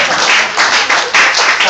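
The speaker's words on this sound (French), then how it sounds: "Applaudissez." Audience applause at an improv show, a dense wash of clapping that swells and surges in waves for under two seconds, close and loud.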